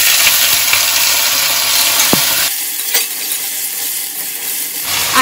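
Potatoes frying in a pan with tempered spices for a banana-flower dish, a loud dense sizzle close by, one metallic clink midway, then the hiss drops to a softer, steadier fry, with no talking.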